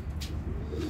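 Banka pigeons cooing, low soft throaty coos close by over a faint background murmur, with a brief higher chirp near the start.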